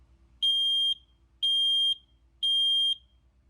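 A Kidde P4010ACS smoke alarm sounds its test pattern: three loud, piercing half-second beeps at an even rhythm, close and clear over a quiet background.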